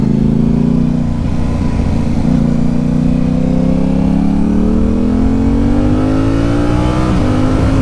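A Yamaha R7 sport motorcycle engine rises in pitch as it accelerates through the revs, loud and close from the rider's position, a continuous strong growl climbing steadily.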